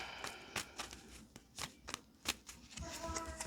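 Tarot cards riffle and snap in a long, uneven run of quick flutters and sharp taps, soft and close, during a pick-a-card reading.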